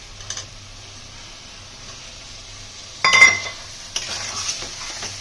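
Ground spices being stirred in a hot pan for matar paneer, a soft steady sizzle with a sharper burst of scraping and clinking partway through, close and alone.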